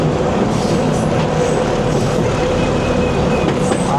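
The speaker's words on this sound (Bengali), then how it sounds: "কারণ এটা ডিজেল চালিত লোকোমোটিভ" Diesel-powered 2300 series locomotive hauling a Bangladesh local train under a cloudy sky, a loud, steady rumble with rhythmic clickety-clack of wheels on rail joints, heard from on board with no talking.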